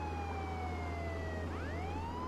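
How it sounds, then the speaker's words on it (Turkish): Police car siren in a Turkish customs police video game, a loud wailing tone that slides down and then sweeps back up, close and continuous over a low engine hum, with no talking. "Dur şu sireni açayım."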